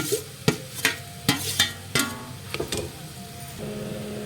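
Mashed boiled potatoes are stirred together in a bowl into a vegetable sandwich filling, giving a handful of soft, irregular scrapes and dull knocks close by, with no talking.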